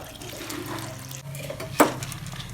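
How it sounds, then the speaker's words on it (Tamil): Water pours into a pot of turmeric-seasoned banana flower for sambar in a home kitchen, a soft steady trickle with a brief louder splash near the end and no talk. "தண்ணி ஊற்றிக்கலாம்."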